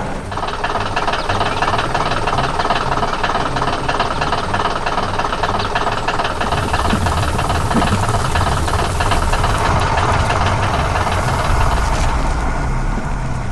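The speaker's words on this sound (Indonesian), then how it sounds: "Terdengar suara mesin yang bekerja keras" A yellow digging machine strains as it digs soil for a road, its engine roaring loud and steady throughout with dense mechanical clanking and ratcheting, heavier rumble from midway, and no voices.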